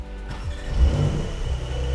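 A 2023 Porsche 911 GTS engine fires up with a quick rumble and settles into a deep, steady growl, close and fairly loud.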